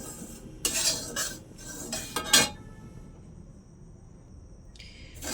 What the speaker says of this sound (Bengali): আস্তে আস্তে একদম লো ফ্লেমে সুজিটা একটু শুকনো খোলায় ভাজা ভাজা করে নিচ্ছি